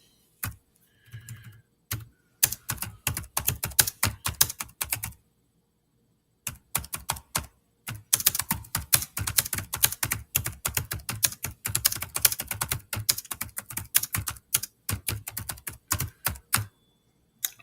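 Rapid typing on a computer keyboard, with dense bursts of key clicks separated by brief pauses, close and clear with no talking.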